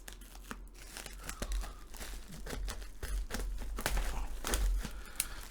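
Scissors snip and tear through Honor Magic V3 phone packaging up close, giving a run of irregular crinkling, crunching cuts with short pauses between them and no talking.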